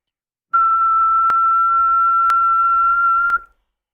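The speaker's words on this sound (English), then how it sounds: "there's the sort of level we've got with a whistle going into the mic" A person whistles into the microphone of an Icom IC-7300 radio, producing a loud, steady pure tone held for about three seconds with a few faint clicks along the way.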